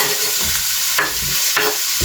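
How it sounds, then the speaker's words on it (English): Chicken sizzling in a frying pan, a loud close hiss of frying with a few sharper bursts as the pieces shift, continuous for about two seconds with no voices. "ping the chicken in. And if you hear a sizzle,"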